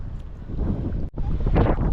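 Strong wind batters the microphone on a fishing boat at sea, a loud continuous roar and rumble with a brief dip in the middle before it surges back harder.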